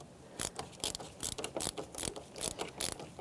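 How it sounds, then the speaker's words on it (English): A 10mm socket ratchet loosens the negative battery terminal on a 2006-2013 Chevrolet Impala, producing a series of quick, close clicking ratchet strokes in a steady rhythm with no voices. "disconnect the negative, 10mm socket or wrench."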